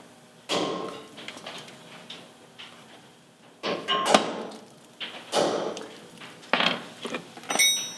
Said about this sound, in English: I'll use a center punch to find the center right here and then just give it a good